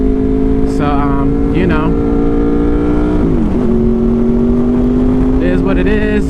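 A Honda VFR800 motorcycle ridden at speed, a loud steady engine whine that dips briefly around a gear change then holds, with wind rush and a rider talking over it.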